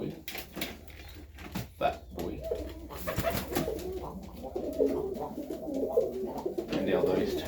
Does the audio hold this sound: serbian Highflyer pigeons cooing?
yes